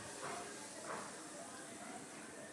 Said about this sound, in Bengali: এখন আমি সময় নিয়ে একটা পাশ ভাজতে থাকবো প্রায় 3 থেকে 4 মিনিটের জন্য।